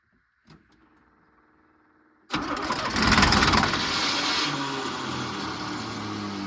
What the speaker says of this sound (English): The starter's really going.